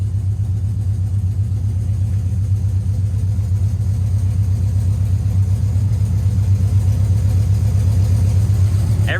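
A Pontiac Trans Am fitted with a Cummins diesel engine running nearby, a loud, steady low rumble that holds near idle throughout without clear rev peaks.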